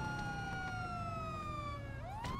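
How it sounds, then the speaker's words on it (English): A police siren in the game NoPixel 4.0 wailing steadily, its tone sliding downward before sweeping back up at the end, heard over a constant background rumble. "Siren check."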